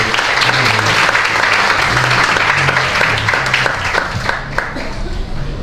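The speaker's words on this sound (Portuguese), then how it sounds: "dê um forte aplauso ao Senhor" A church congregation gives loud, dense applause during a worship service, sustained and close, with some voices and cheering mixed in beneath the clapping.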